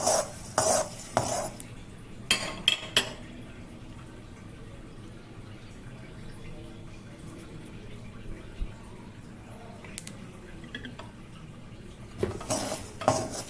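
Brinjal pieces being stirred into a hot tempering in a pan: bursts of metal spoon clatter against the vessel near the start and again at the end, with a low hiss in between.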